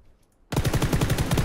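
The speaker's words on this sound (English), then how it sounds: "Gunshot, did you hear that? Multiple gunshots." Rapid automatic gunfire from PlayerUnknown's Battlegrounds bursts in suddenly after a near-silent moment, a loud, steady string of closely spaced shots.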